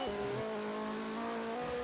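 A fast car in the driving game CDID, its engine note holding a steady high drone after a brief gear-shift dip, fairly loud and continuous with no talk.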